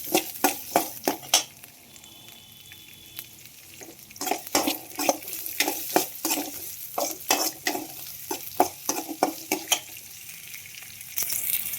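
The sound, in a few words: onions frying in oil in a pan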